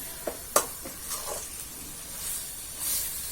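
Minced mutton frying with onions and masala for cutlets, a soft close sizzle with a couple of sharp utensil scrapes early on and a gentle stirring swell later.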